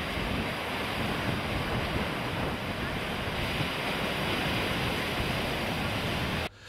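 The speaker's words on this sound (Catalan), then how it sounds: "les onades tornaven a saltar per sobre dels murs i esquitxaven els vianants que s'apropaven per veure aquest fenomen" Stormy seas of an easterly gale at L'Escala pound over the harbour walls in a steady, loud roar of surf mixed with wind buffeting the microphone. The sound holds constant for most of the clip, then cuts off abruptly near the end.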